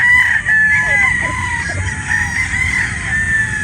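A Sanino white battle stag rooster crows loudly and close, one long drawn-out call with a few short clucks, over faint background noise.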